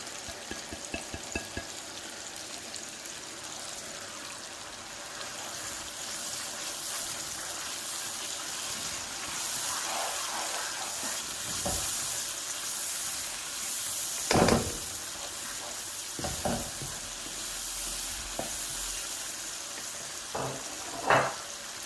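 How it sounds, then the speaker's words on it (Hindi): Mutton karahi spices frying and being stirred in a pan, a steady soft sizzle with scattered scraping clicks and a few sharper knocks from the spoon, fairly quiet and with no talking. "अब हम थोड़ी देर इसको भी भून लेते हैं ताकि ये सारा एक जो मिक्स हो जाए"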